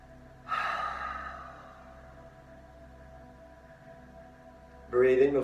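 Deep yoga breathing during a morning yoga session: a long audible inhale early on that fades, a quiet stretch, then another breath surging near the end, close and soft.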